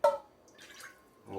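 Simple syrup being poured into a pan while making candied lemon cupcakes, a brief liquid splash and drip followed by soft trickling, close and fairly quiet.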